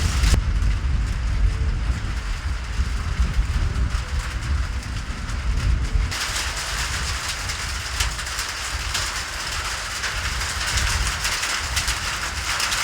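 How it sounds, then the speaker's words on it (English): Light rain falls steadily in the desert, a continuous dense patter and hiss on surfaces with no break, holding even across the span and growing slightly brighter and harsher partway through. "it's coming down again. Just a little light rain"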